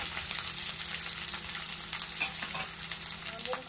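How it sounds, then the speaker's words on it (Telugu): Onion and two green chillies frying with cumin in a pan for a Telugu dondakaya (ivy gourd) masala, a steady close sizzle with occasional stirring scrapes throughout, no voices. "జీలకర్ర, ఇప్పుడు ఇందులో ఆనియన్, 2 పచ్చిమిర్చి వేసుకొని వేయించుకోవాలి."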